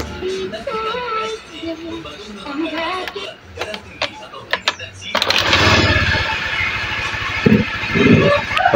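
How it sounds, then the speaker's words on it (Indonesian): Someone talks at first, then a fuel-injected motorcycle with its battery removed cranks with a few ticks and catches, settling into a loud, steady engine putter close by, with brief voices over it. "Ini aki saya lepas, lalu coba sekarang saya nyalakan motor."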